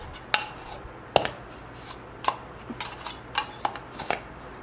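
Sigma 20mm f1.4 lens cap lid handled in a series of small, sharp plastic clicks and taps, a handful of distinct light knocks spaced unevenly, close and fairly quiet with no talking.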